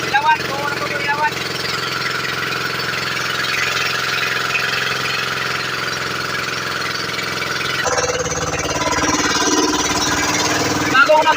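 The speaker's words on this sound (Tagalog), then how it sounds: "Bagong makina po yan. Bagong makina." A new engine runs steadily on a newly built wooden fishing boat, a continuous knocking, chugging drone heard up close with people talking over it, the tone shifting slightly partway through.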